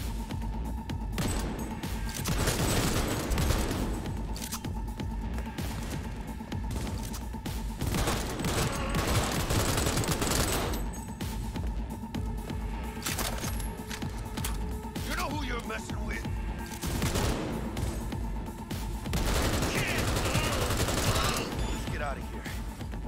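Assault rifle fire in Cyberpunk 2077 crackles in repeated automatic bursts amid other game combat noise, with someone talking over much of the action.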